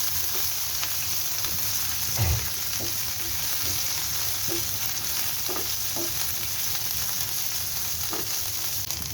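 Chopped garlic fries in a pan for a tangy, spicy egg bharta, producing a steady, close sizzling hiss with occasional soft knocks of stirring.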